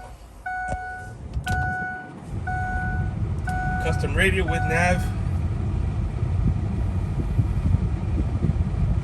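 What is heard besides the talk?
2003 custom Ford Excursion diesel truck engine starting and idling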